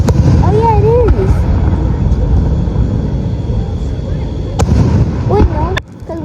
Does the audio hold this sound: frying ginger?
no